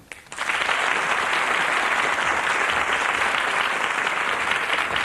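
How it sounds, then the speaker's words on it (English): A studio audience at a comedy show breaks into loud applause, starting abruptly after a brief pause and then holding as a dense, steady wash of many clapping hands. "So how's about a fabulous clap, clap, clap for the one and only Wilf?"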